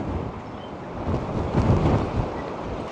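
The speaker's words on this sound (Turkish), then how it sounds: "Rüzgarın sesi." Stormy wind gusts along the Bodrum coast, a steady broadband roar swelling louder around the middle and then easing slightly, with no voices.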